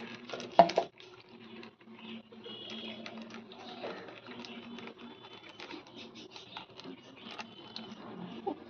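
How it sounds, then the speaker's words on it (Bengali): Crushed homemade mixture with lemon juice being strained through a strainer, giving soft wet squishing and patter, with a brief sharper clatter near the start, steady and close without talk. "এই যে ছেঁকে নিয়ে যে রসটা বেরোচ্ছে, এই রসটাই মাখাবো"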